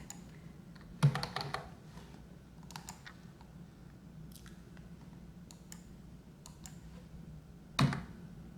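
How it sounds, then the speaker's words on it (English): Quick bursts of typing on a computer keyboard, a few clustered clacks near the start and another sharp burst near the end, with sparse soft taps in between over a low background hum. "I just want to type"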